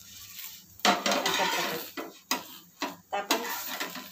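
A spatula scrapes and clinks against a pan as an upvas masala dosa is flipped, making a few sharp metallic knocks and scrapes close by, spaced irregularly over a few seconds with a quiet gap at the start.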